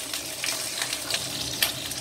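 Meat-stuffed chili peppers sizzle in a wok, close and lively, with crackling bursts and a scrape or two of stirring across a short stretch of frying.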